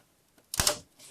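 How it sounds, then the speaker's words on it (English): Old plastic nuts on a TRS-80 Model 4 case crack sharply as they are unscrewed, one loud close snap followed by a fainter creak, with near silence before it. "Listen to this crack. You can tell these plastic nuts here have never been removed."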